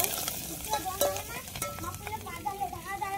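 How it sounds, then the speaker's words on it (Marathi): Curry leaves and garlic sautéing in hot oil for a spiced buttermilk tempering, with crackling sizzle and repeated spatula stirring scrapes at close range, and no talk. "हा कढीपत्ता पण त्यात लगेच टाकून द्यायचा. आता परतून घेऊ मस्त"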